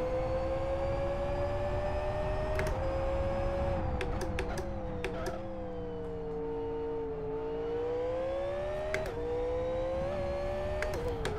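V8 car engine in the Live for Speed racing game, a steady droning engine note that rises and falls with throttle and gear changes, with brief clicks of shifts, continuous and without talk.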